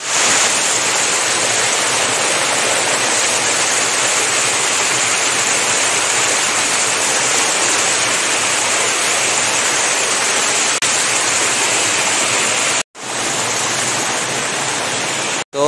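Water pours down a waterfall near Kanker and Antagarh in a loud, steady rushing roar that fills the whole span, with only a brief cut near the end.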